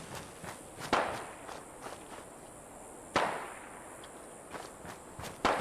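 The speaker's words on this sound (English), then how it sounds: "There you can hear who's shooting who now again." Distant gunshots in the video game Fallout 4, a few sharp cracks spaced irregularly over faint background ambience, the loudest popping out at intervals.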